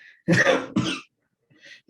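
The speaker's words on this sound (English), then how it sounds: "I have this odd cough" Two quick, harsh coughs close by, followed by a faint breathy sound, from an odd cough that began after a liver cleanse.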